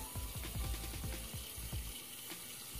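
Tap water runs into a bathroom sink during face rinsing, with irregular splashing and dripping close by, no talking.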